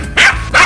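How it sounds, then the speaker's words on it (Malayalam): A dog barking close and loud, two sharp barks in quick succession. "കൊരക്കണ്ട നായി ഇപ്പൊ ആൾക്കാരെ പാഞ്ഞോണ്ട് വരും."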